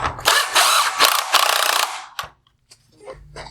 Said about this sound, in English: turning the 10mm headlight adjusting bolt all the way to the